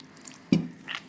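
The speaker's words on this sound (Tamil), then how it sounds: "தெளித்து வேகமாக பிசைஞ்சு வேண்டியதான்." Ribbon pakoda dough being kneaded by hand with water sprinkled over it: one soft, wet squishing thud, then a quieter rustle a moment later, close by with no talking.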